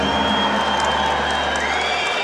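Crowd noise in a judo arena at the World Judo Championships, a loud continuous roar of many voices reacting together, with shouts and whoops mixed in and no break.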